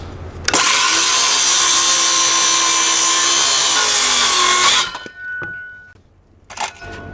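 A power saw cuts through wood for a rustic sliding barn door in a post-and-beam garden barn, a loud, steady whining run of about four seconds that stops abruptly, followed by a few small knocks and brief rustles.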